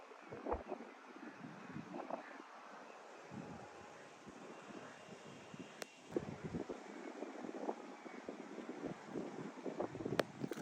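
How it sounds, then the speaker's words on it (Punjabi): Steady wind rushing across an open microphone beside a field of tall sorghum in Punjab, with gusty buffeting and rumbling bursts throughout, no voices. "ਠੰਡੀ ਠੰਡੀ ਹਵਾ ਚੱਲੀ ਹੋਈ ਹੈਗੀ"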